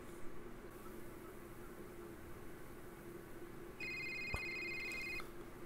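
A cell phone rings in the video game A Short Hike, sounding as a single short burst of bright electronic ring tones over quiet ambient game background, with no talking.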